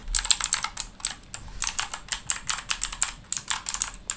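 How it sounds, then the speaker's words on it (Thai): Rapid clicky keystrokes on a Tsunami MK-68 mechanical keyboard with blue switches, sharp and bright, in a steady typing rhythm close to the mic with no talking. "เรามาฟังเสียงกันว่าบลูสวิตของซูนามิรุ่น MK68 เนี่ย มีน้ำเสียงอะไรยังไงเนาะ"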